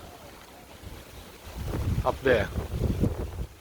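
Wind gusts on a windy spring day outside near banana plants, rising from faint to strong buffeting against the microphone, while a person speaks briefly.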